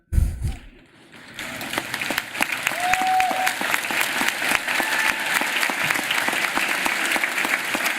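A school graduation audience applauds the graduates' parents, a sustained, dense round of clapping from a large crowd in an indoor or outdoor ceremony, steady and loud throughout after a brief quiet start.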